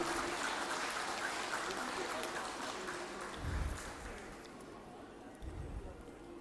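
A crowd at a community association's jubilee celebration claps in a broad, steady wash of applause, with a few louder swells and low thumps near the end.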